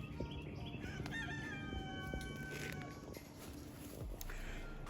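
A rooster crows a long cock-a-doodle-doo at moderate distance, with faint clucking and outdoor background noise.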